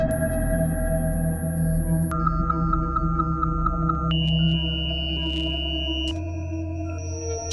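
An Intellijel Cascadia synthesizer runs a self-playing patch of pure electronic tones. High pitched notes pulse and chirp in shifting steps over a low sustained drone, giving a synthetic, forest-like texture with no voices.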